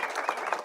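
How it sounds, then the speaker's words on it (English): Brief burst of applause from attendees at a City Hall press conference on DC statehood, dense overlapping claps at moderate volume. "Let's give them a big round of applause"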